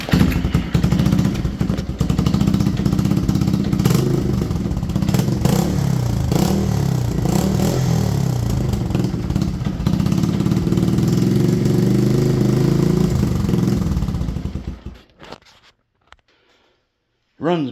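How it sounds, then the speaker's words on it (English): A 1985 Yamaha 225DX engine runs loud and rough with uneven clatter, struggling to settle at idle, before cutting out abruptly and leaving near silence with a brief burst at the end. "runs, but doesn't want to idle very well"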